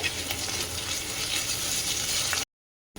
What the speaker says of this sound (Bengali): এটা দিয়ে একটু নাড়াচাড়া করতে হবে